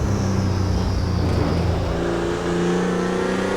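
A manually shifted Porsche 911 GT2 (993) racing at Le Mans in Assetto Corsa, its engine note rising and holding loud and near, with a shift partway through and the pitch climbing again.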